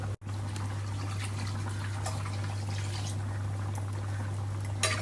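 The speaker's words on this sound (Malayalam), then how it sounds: "ആവശ്യത്തിന് വെള്ളം വീട്ടി കൊടുക്കാം" Water poured into a pot of fish head curry cooking on the stove, a soft continuous trickle and splash against a steady low hum, faint and close, with no talking.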